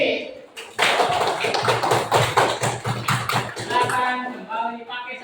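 A classroom group claps together for a learning group, a dense burst of many hands that starts abruptly, holds steady and loud for several seconds, then thins out with voices and chatter underneath.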